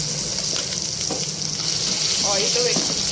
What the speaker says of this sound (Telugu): ఆయిల్లో వేసుకొని ఫ్రై చేసుకుంటే బాగుంటుంది.